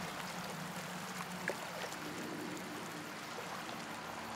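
River current rushes past a raft in the video game Outlast 2, a constant broadband wash of flowing water with a faint bump partway through and no voices.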